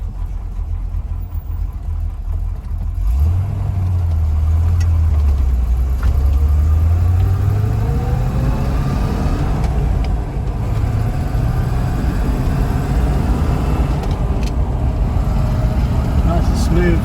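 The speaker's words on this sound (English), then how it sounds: "we'll just take the road in this Corvette C2." A 1965 Corvette C2 Stingray rumbles along the road, its engine swelling through a rising rev and gear changes, loud and steady throughout, with a voice speaking briefly over the drone.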